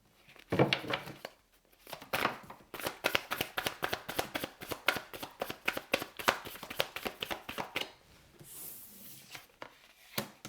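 Tarot cards shuffled and dealt out one by one, giving a long run of quick, crisp card flicks and soft taps close by, with brief pauses between bursts.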